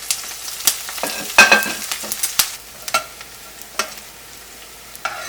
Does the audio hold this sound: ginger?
yes